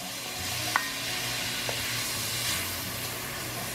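Diced chillies, seeds and all, fry steadily in hot bacon fat, a constant close sizzle with a couple of brief clinks of a utensil against the pan.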